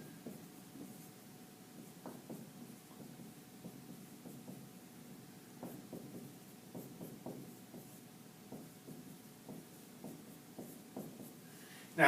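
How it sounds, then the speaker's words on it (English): Pen scratching out a calculus problem on paper, soft short strokes and taps in an irregular rhythm, faint and close, with no voices. "Let me write it out."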